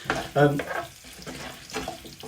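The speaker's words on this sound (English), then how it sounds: "So I'm just going to get that butter melted down, just giving them another little toss" Butter melts and sizzles in a frying pan alongside potatoes being tossed, a soft crackle with brief scraping stirs near the microphone, short and fairly quiet.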